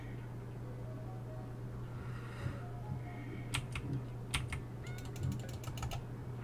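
Rapid mouse clicking while playing Oh No! More Lemmings, crisp close clicks that come in quick clusters over a steady low computer hum, sparse at first and then faster.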